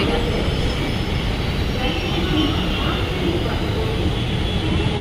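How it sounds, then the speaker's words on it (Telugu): A metro train rumbles loudly and continuously into the station, wheels grinding, with voices faintly mixed into the noise. "ట్రైన్ పైన వస్తుంది ప్లాట్ఫామ్ నెంబర్ టూ పైకి"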